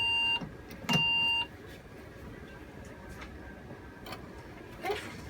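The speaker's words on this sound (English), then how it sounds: "when it beeps at us again, put it in the machine" Electronic beeps from a lab analyzer probe: two clear steady tones near the start, each lasting about half a second, in a quiet room with faint clicks and handling noises after.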